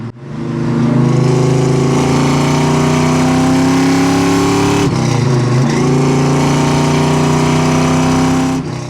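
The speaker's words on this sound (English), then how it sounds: "Sounds like half, maybe a little bit more than half throttle, and it pulls really well." A restored 1971 Chevrolet Chevelle SS V8 pulling at about half throttle, loud and close, the engine note rising steadily with a brief dip around a gear change before climbing again.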